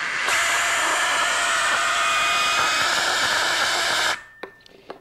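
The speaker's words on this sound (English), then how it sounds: "Now I'm going to blow that ping pong ball out." Strong, steady breath blown through a funnel to lift a ping pong ball in a Bernoulli physics demonstration, a loud continuous hiss lasting about four seconds before cutting off, then a few faint clicks.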